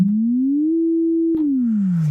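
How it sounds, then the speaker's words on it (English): Ableton Operator synthesizer playing a single sustained sine-like tone with a long pitch glide, rising smoothly, holding, then sliding back down after a small click, clean and alone. "Or you can have those super long glides."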